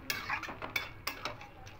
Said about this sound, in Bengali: এবার এখানে ডালিয়া আর মুগ ডালটা দিয়ে দেবো, দিয়ে খুব ভালো করে মিশিয়ে নেব।